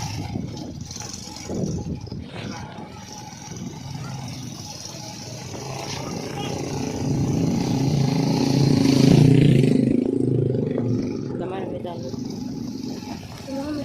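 A motorcycle engine rumbles nearby, swelling louder as it passes through the middle and then fading, while people talk over it and a dog is heard.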